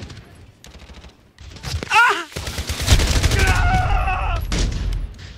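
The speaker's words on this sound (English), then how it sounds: "I can hear bullets whizzing past my head." Gunfire in the Call of Duty: Modern Warfare 2019 video game comes in loud, dense bursts with sharp cracks. Rattling volleys build into sustained fire after a brief quiet spell.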